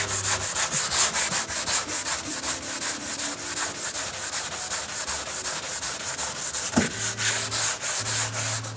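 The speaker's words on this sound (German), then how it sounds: "Du musst jetzt ein bisschen hier schleifen." A panel from an Oettinger TCR Street body kit is sanded by hand with quick, rhythmic back-and-forth strokes. The close rasping stays steady throughout, with one brief tonal squeak near the end and no talking.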